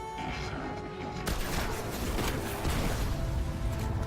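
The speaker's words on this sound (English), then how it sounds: "the servitors are going to shoot the cover" Gunfire from servitor enemies pelting cover in the video game Destiny, a steady dense barrage of crackling shots and impacts that grows louder after the first second and keeps rolling without a break.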